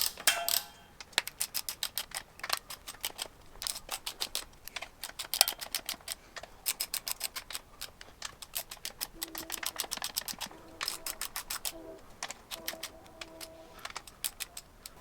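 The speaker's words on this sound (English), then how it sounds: "I will go around, snug all these down, and then we will torque them to that 37 foot-pounds" A ratchet snugs down bolts on an Allison 1000 transmission extension housing, making rapid irregular bursts of fine clicking with short pauses between, close and fairly quiet, no talk over it.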